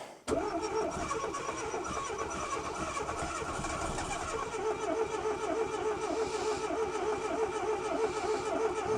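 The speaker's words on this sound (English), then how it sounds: "There's my starter motor thingy." A long-neglected old car's starter motor cranks its engine after 26 years unused, kicking in abruptly and then churning steadily with a rhythmic labouring pulse for the rest of the clip, close and loud with no talk.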